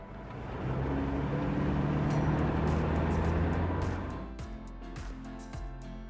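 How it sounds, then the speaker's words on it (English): An autonomous vehicle driving a postman's route, a low engine and tire hum swelling in and steadily passing, then fading to quieter ambience with light clicks. "the autonomous vehicle starts driving from the postman's home toward the first drop-off"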